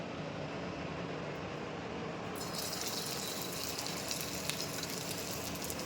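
Close, continuous hissing of meat chops frying in oil in a wok, turning brighter and sharper partway through, with no talking.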